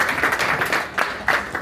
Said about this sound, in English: So please, let's clap for him.